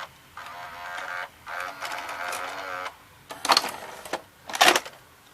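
An old VCR ejecting a videotape: whirring mechanical motor runs in separate bursts, followed by two sharper clunks and clicks as the tape transport releases the cassette, close and fairly quiet with no talking.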